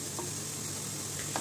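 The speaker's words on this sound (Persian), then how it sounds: "پیاز قشنگ باید کاراملی سرخ کنیم." Onions fry with turmeric in a pan, a steady soft sizzle with a couple of light stirring clicks, close and quiet with no talk, while cooking Gilani alu mosamma.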